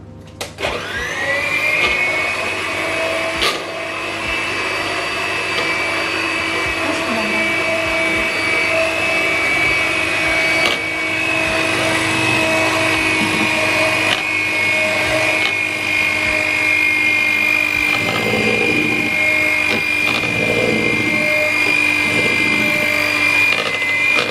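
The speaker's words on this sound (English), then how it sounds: "without stopping the mixer I will be adding the melted chocolate with butter" An electric mixer beats triple chocolate brownie batter while melted chocolate and butter are added, a loud, steady motor whine that spins up quickly and runs continuously with faint bowl scraping beneath.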